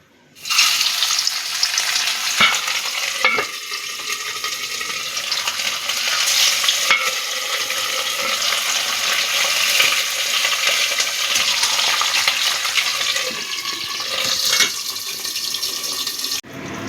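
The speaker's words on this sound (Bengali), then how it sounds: "তেলটা গরম হয়ে গেছে, এবার আমি মাছগুলো ভেজে নেব" Parshe fish fry in hot oil with a loud, dense, continuous sizzle that bursts in suddenly at the start and holds steady, with occasional sharper crackles and spatters.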